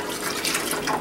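Chicken stock and whole milk poured into a cooking pot for a casserole, a steady close liquid splash and trickle running throughout without pause.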